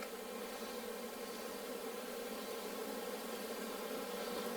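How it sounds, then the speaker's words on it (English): Honey bees crawl and hum over comb on hive frames during a spring inspection, a steady, close, even buzzing drone that runs unbroken throughout with no voices. "I'm being careful because I got some bees crawling around here"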